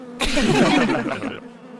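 A loud, close buzzing of wasps swells for about a second and then stops abruptly.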